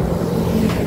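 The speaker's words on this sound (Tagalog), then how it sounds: "May truck sa likod." A military truck rumbling along a narrow road behind a motorcycle, a steady low engine drone and road noise with no voices.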